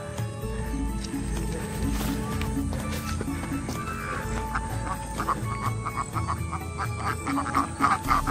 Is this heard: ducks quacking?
yes